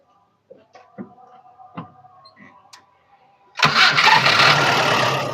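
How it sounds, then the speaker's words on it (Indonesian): A 1989 Toyota Kijang Rover engine cranks and catches, then settles into a loud, steady idle, preceded by faint clicks and brief voices. "Coba nyalain. Kita dengar teman-teman untuk suara mesinnya seperti apa."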